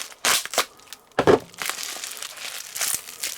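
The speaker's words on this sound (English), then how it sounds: "I'll carefully cut this guy open" Bubble wrap around a home first-aid medic box being cut open: a few sharp crinkling, crushing bursts of plastic close by, separated by quieter rustling handling.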